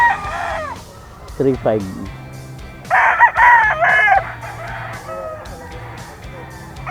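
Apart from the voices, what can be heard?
gamecock rooster crowing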